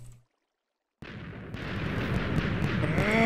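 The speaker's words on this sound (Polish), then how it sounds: "Mały wybuch. No mały, bo trochę było ich." A small explosion goes off in a blocky sandbox video game during an apocalypse finale near lava, a sudden loud blast after a second of silence, followed by sustained rumbling debris and crackling that keeps building.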